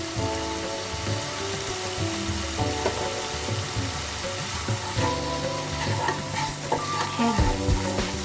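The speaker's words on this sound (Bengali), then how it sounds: "গুঁড়ো মশলাগুলোকে ভালো করে এবার আমি কষাতে থাকবো যতক্ষণ না তেলটা ছাড়ছে।" Ground turmeric, salt, cumin and coriander fry in oil in a pan while being stirred for a garlic-spiced bata fish curry, a steady close sizzle with scraping stir strokes and a low continuous hum underneath.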